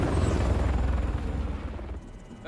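A helicopter in Call of Duty: Modern Warfare gives a loud, close, rhythmic rotor thumping over a dense engine roar, easing slightly near the end.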